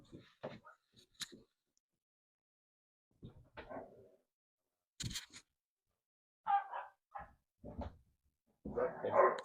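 Three basset hounds barking indoors upstairs, a scattered run of deep, muffled barks and yips coming in irregular bursts with quiet gaps, slightly distant and building to a louder, denser flurry at the end.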